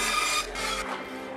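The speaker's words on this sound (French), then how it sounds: "Je peux le découper à la scie à ruban." A band saw cutting a plywood disc gives a steady, rasping high whine that shifts in tone partway through the short cut, close and fairly loud with no speech.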